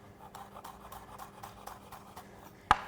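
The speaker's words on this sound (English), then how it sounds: "Just going to cut this green onion into thin slices." Knife slicing a green onion thinly on a cutting board, a quiet series of soft evenly spaced taps and scrapes ending in one sharper knock against the board.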